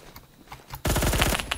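Automatic gunfire in the shooter game Phantom Forces: after a quieter start, a loud, rapid burst of shots rings out up close and continues to the end.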